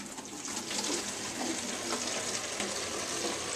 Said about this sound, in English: we're going to pour that into our gallon container.